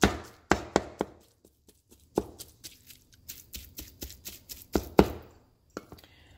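Cooked crockpot birria meat being chopped with a knife on a cutting board: a series of crisp, close taps and thuds in uneven rhythm, some quick clusters, others spaced out, with quiet pauses between.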